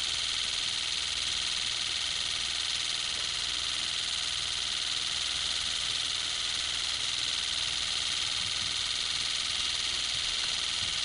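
Water injection system pulsing at a rate meant to mimic a car at 60 mph, pulses so fast they blur into a faint, continuous high-pitched buzz with no break.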